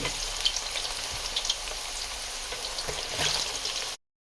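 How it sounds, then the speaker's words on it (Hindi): Tinda slices fry in hot oil in a pan, a dense, even sizzle with a few small pops that swells slightly before cutting off abruptly into silence. "ऑयल हमारा गर्म हो चुका है, तो मैं इसमें अब फ्राई करने के लिए ये डाल रही हूँ।"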